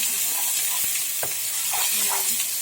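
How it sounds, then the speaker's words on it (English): Beef taco ingredients stirred in a hot pan give a steady, close sizzle with brief scraping stirs breaking through, and no talking. "we'll just stir them around a little bit"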